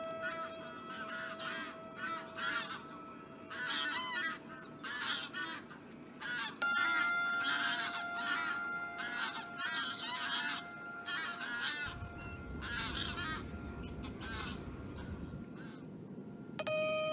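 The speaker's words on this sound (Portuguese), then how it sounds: "um pequeno grupo de gansos bravos que lentamente procura alimento no inverno da Lesíria" A small group of greylag geese honks repeatedly at dawn while foraging in winter on the Lezíria marshes of the Tagus estuary, with overlapping calls at moderate distance and a low steady background hum.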